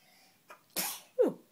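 A single close sneeze, a quick inhale followed by a sharp burst and a short voiced tail, in an otherwise quiet room.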